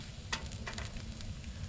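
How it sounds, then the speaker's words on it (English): Cactus frying slowly in olive oil in a frying pan at a campsite gives a faint, steady sizzle with a few soft crackles and stirring clinks, heard alone. "I'm going to let it fry very slowly so it can cook all the way inside. And it's frying in olive oil."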